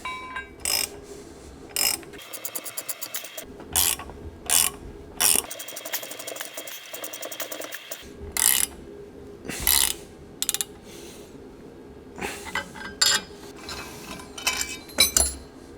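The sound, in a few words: pressing ball joints out of BMW 850i suspension carrier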